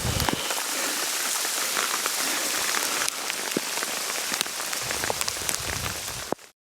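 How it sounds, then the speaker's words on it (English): Hail falling in the southwest Alaska wilderness, a dense, steady patter of hard pellets striking surfaces close by, continuous and loud for several seconds before stopping abruptly. "Hail, a little different."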